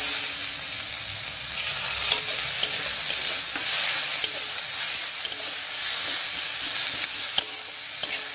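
Chopped onions and green chillies fry in a pan, a dense, continuous sizzle with frequent stirring scrapes and clicks, close and loud, with no talking.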